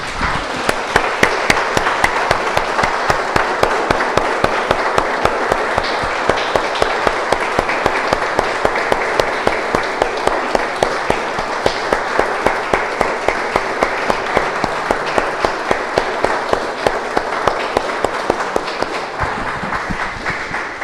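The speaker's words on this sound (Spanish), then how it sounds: "Damos un aplauso, hermanos, al Señor." Church congregation clapping in steady rhythmic unison for about twenty seconds, loud and close, a dense run of sharp evenly spaced claps with little talk over it.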